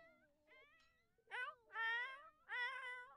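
A cat gives a few short, faint meows followed by three louder, drawn-out meows while being examined during a veterinary check of its thick fur.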